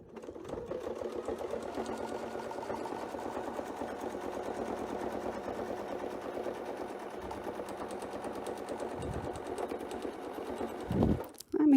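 A sewing machine stitches a quilt in a steady, continuous mechanical whir with a rapid needle rhythm, running close and loud for most of the clip before stopping near the end.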